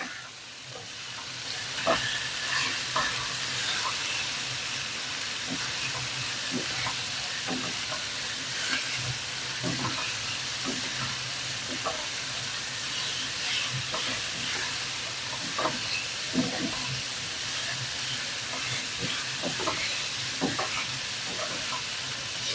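Veal axoa stirred in a pan, a steady sizzle running throughout with repeated scraping strokes of the spoon at a close, even volume.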